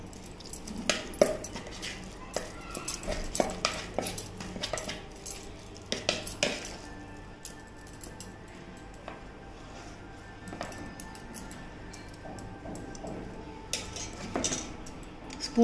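Fish pieces being mixed with lemon juice marinade in a metal bowl, quiet clinks and taps of utensils and dishes scattered irregularly, soft and close.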